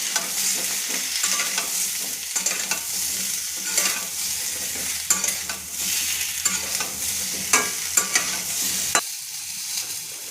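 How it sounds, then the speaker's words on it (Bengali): Potatoes frying in oil with salt and turmeric in a home kitchen, a steady hissing sizzle broken by repeated scraping stirs and clinks of a spatula against the pan, close and fairly loud, no voices. "আলুটা হালকা করে ভেজে নিলাম"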